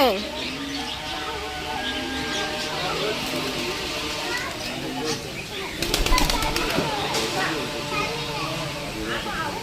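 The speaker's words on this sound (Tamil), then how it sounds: "சதீக்ஷா இந்த புறா கால்ல பாரு" A pigeon at a bird park in Pondicherry gives a brief burst of flapping wings amid steady children's chatter and scattered bird chirps.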